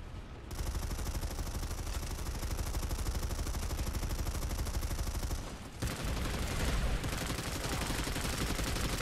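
Rapid automatic gunfire from a three-barrelled SMG or carbine in the video game Planetside 2 (PS4), a dense continuous burst with a brief break near the six-second mark before the firing resumes just as loud.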